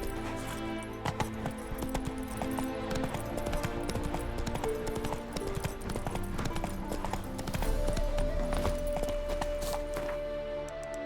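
Horse hooves gallop in a rapid, steady clip-clop rhythm in the video game Witcher 3 Hearts of Stone, loud and close, with game music and a sustained tone underneath and no talk.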